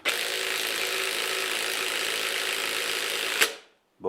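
A Ryobi impact wrench runs flat out to tighten a nut, a loud continuous rattling hammer held for over three seconds before stopping abruptly, then a brief restart.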